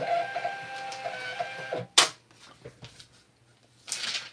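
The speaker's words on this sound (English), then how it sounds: "I took forever to get my Rollo printer, and it's working out" A Rollo label printer prints with a steady mechanical whir and faint tonal hum, then a sharp clack, a few softer clicks and a final burst of feed noise, close by with no talking.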